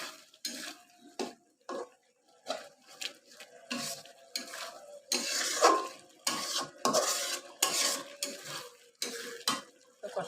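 Potatoes are fried and stirred in a pan with a spatula, bursts of scraping and clinking against the metal in an irregular rhythm over a light sizzle, close-up with no talking.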